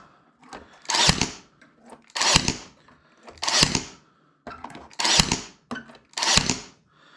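Five sharp, evenly spaced knocks of a hammer driving nails into wood for a muskrat float, each followed by a short pause, close and loud with faint handling noise between hits.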